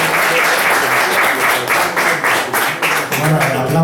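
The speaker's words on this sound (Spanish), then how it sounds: "pido un aplauso para Nico" An audience applauding a speaker named Nico at a talk, a loud, sustained wash of many hands clapping close up, steady throughout with faint crowd voices mixed beneath.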